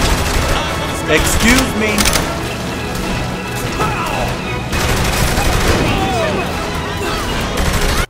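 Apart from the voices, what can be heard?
grenades exploding in Saints Row The Third Remastered video game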